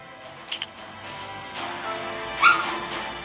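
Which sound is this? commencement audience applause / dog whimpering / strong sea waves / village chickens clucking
dog whimpering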